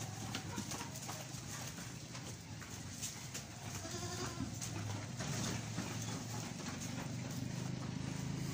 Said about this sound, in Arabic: غنم كلها صحة ما شاء الله